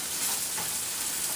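Vegetables sizzle in a hot pan while cooking down for braised pork ribs, giving a soft, steady hiss and crackle on their own for a moment.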